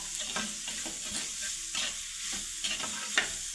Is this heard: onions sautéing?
yes